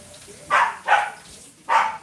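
A pet dog named Simba barks indoors: three sharp, loud barks close by, the first two in quick succession and the third after a short pause.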